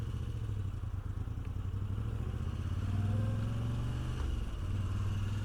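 A Moto Guzzi V85TT adventure motorcycle riding off-road, its engine a steady low rumble heard close from the rider's position, with faint clatter over the terrain and a slight rise in revs midway.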